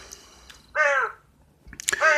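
Indoors, a pet crow gives two loud, close caws separated by a short pause, the first a harsh drawn-out call and the second sharper, over a quiet room background.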